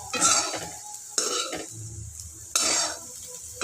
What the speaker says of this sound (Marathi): त्याला कांदा छान तिथे परतून घेऊया